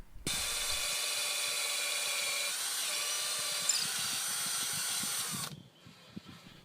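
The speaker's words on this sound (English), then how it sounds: "To secure the top, I just drilled a hole in the vertical post." A power drill bores a hole into a vertical wooden post for a garden cage, giving off one loud, sustained, high whine for about five seconds before it cuts off, leaving faint background noise.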